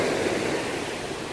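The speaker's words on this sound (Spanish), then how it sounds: "Vénganse, espérense que venga el mar." Sea waves wash onto the shore in a steady, loud, broad rush of surf that fills the whole moment, with no talk.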